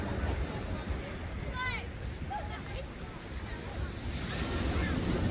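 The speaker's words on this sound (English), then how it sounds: "You see the waves crashing against the wall." Rough sea waves crash against a harbour wall at Lyme Regis beach in Dorset, a steady loud surf wash with wind buffeting the microphone and a few faint bird calls above it.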